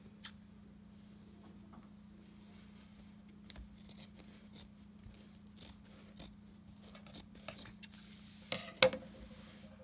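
Faint, quiet snips and crisp scissor cuts through fabric for a pillow slip cover come in short bursts over a low steady hum, growing a little louder toward the end.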